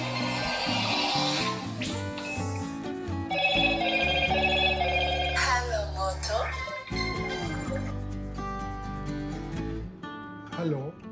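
A phone set on speakerphone to call a minister gives out a ringing tone with a melodic, music-like ringback that plays continuously for several seconds and cuts off near the end.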